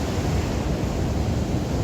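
Ocean surf rolls onto a cold beach in a steady, dense wash of noise with no break, loud and close, with no voices over it.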